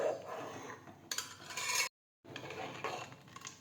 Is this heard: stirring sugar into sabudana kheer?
yes